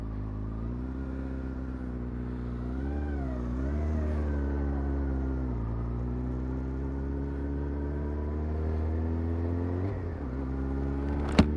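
A Yamaha R1 motorcycle accelerating hard on a road ride, its engine note loud and close, rising and falling in pitch through several revs and gear changes over a steady rumble.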